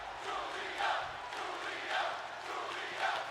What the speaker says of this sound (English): The crowd is saying things that we are not allowed to.